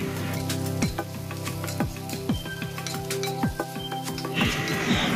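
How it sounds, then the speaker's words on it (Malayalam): Slit green chillies, dried red chillies and curry leaves are sautéed in a pan, a steady sizzle with repeated metallic clinks and scrapes of a stirring spoon, close and fairly loud. "3 പച്ചമുളക് നടുക് കീറിയതും 4-5 വറ്റൽമുളകും അതുപോലെ 2 തണ്ട് കറിവേപ്പിലയും കൂടെ ചേർത്തിട്ട് നന്നായിട്ടൊന്ന് വഴറ്റിയെടുക്കണം"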